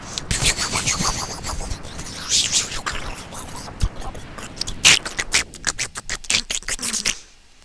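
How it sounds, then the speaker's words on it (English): A dense burst of crackling, scraping noise from Mega Man X as a boss dies and explodes, building into a series of sharp clicks and pops, ending abruptly in silence. "That was the sound of him dying and exploding."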